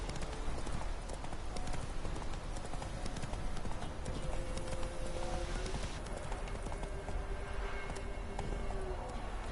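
Geralt's horse Roach trots steadily through the world of The Witcher 3, with rhythmic hoof clip-clops running continuously under soft game ambience and faint background sounds.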